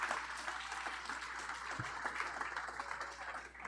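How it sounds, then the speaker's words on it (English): Audience applause at a sailing race finals press conference and awards ceremony, continuous moderate clapping from a crowd, fairly distant and even, lasting the whole stretch. "And that deserves wild applause,"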